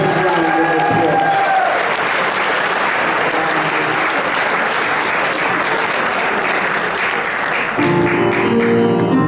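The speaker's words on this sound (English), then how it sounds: "Give them a big round of applause." A crowd applauds at a talent show held in virtual reality, sustained loud clapping that runs for several seconds, with music fading out beneath it at the start and a voice coming in near the end.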